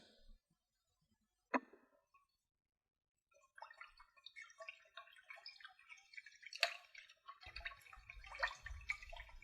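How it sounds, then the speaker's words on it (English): Rice being rinsed with water in a removable Japanese rice cooker pot: quiet trickling, dripping and swishing that start after a brief splash and grow busier toward the end, close but soft. "I've put a cup of rice, or okome as the Japanese call it, into the removable rice cooker pot, and now I'll give it a good rinse"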